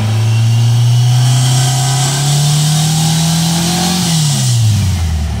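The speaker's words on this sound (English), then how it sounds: "I'm gonna accelerate slowly. Still running really rich in the middle." A vehicle engine fitted with a 39mm carburetor, running rich in the midrange, revs up slowly and steadily under no load, its loud, close drone rising in pitch, holding, then falling off.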